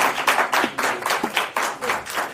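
Studio audience applause welcoming a guest to an interview, brisk steady clapping from a small group at an even quick rhythm, close and unaccompanied by talk.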